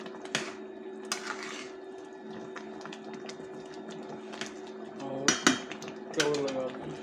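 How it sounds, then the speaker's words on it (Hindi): Spiced chicken legs with salt, chili, turmeric and black pepper are stirred in a metal pot, giving scattered scraping and clanking of a spoon against the pot, close and moderately loud over a steady background hum. "इसको एक बार मिक्स करेंगे।"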